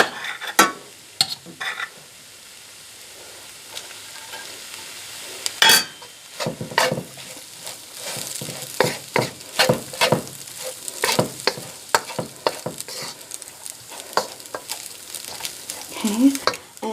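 Cooked rice stir-fried in a hot pan for homemade fried rice, a steady sizzle under scraping, clattering spatula strokes that grow busier and louder toward the end.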